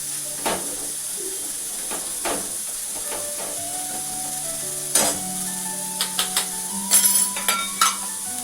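Spice masala frying in hot oil for an eggplant curry, a steady sizzle and hiss with occasional stirring clinks and scrapes of the pan.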